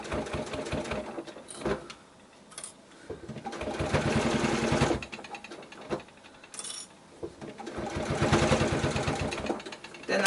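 A sewing machine stitches a quilted zippered pouch in bursts of running, broken by short pauses as the bag is turned, with a voice talking over parts of the stitching.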